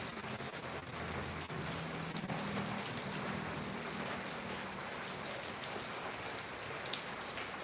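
Steady rain patters onto a terrace in a broad, even wash, with no voices and no thunder for the whole stretch.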